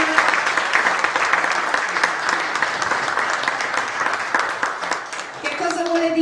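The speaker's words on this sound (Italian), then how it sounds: "Un applauso a Guido Junior." Sustained audience applause at an Italian book presentation of an autobiography, steady dense clapping from a crowd filling the room for several seconds before easing slightly at the end.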